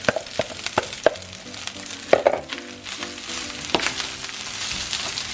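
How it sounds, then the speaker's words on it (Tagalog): Longganisa and day-old rice sauté in a pan for Filipino fried rice, with a constant close sizzle broken by sharp clinks and scrapes of a utensil against the pan. "then the rest I'm gonna saute together with my rice"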